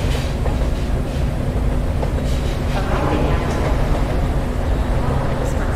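Train running on rails in the Metro Sim Hustle video game, a loud, continuous rumbling roll with faint clicks of wheels over track, steady throughout with no talk.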